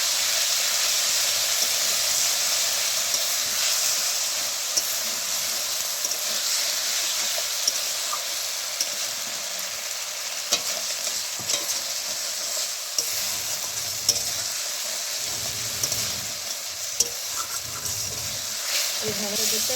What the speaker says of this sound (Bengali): এটা দেওয়ার পরে আমি আবার একটু নাড়াচাড়া করে নেব